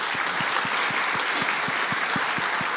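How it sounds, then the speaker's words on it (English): A crowd at a Brazil-UK fintech forum applauds its panelists, a dense, loud, continuous wash of clapping, with a faint regular low thumping underneath. "Please, a big round of applause for our panelists."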